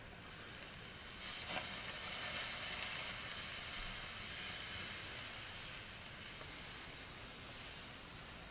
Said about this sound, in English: Time to flip the steak.